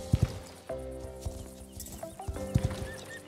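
An Appaloosa horse in the Star Stable Online video game clip-clops along and whinnies as it jumps around an arena, with a few sharp hoof thumps, a tonal neigh and game chimes, all fairly close and with no talking.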